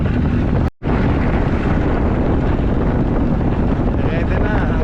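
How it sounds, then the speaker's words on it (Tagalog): Strong wind buffeting a microphone near the water, a loud continuous roaring rush with a brief dropout near the start, then steady gusty noise to the end. "Grabe ang lakas ng hangin"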